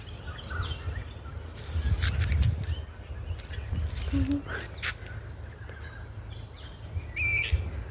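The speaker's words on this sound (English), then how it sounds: "I swear these birds are always fighting with each other." Small birds chirp and squabble in short bursts, with a noisy outdoor background and scattered brief calls, including a brighter cluster near the end, under a faint voice.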